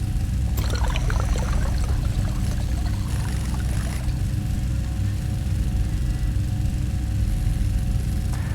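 Water pours steadily in the video game Stationeers, a continuous broadband wash over a low rumbling hum, with a few brief splashy bursts early on and no one talking.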